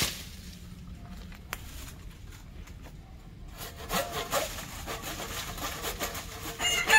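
A hand saw with unset teeth rasps steadily through a thick lemon tree branch, faint at first then louder and more vigorous, with birds chirping softly in the background.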